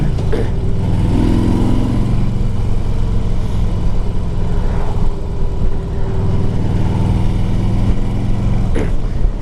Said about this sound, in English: this bike runs good. It's got a good sound. It fires right up.